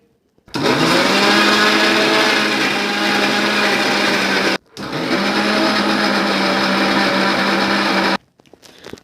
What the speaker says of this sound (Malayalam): ഇത് നമുക്ക് മിക്സിയിലിട്ട് ഒന്ന് അടിച്ചെടുക്കാം